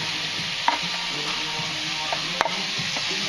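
Onion in a frying pan gives off a close, continuous hissing sizzle, broken by a couple of sharp clicks from stirring.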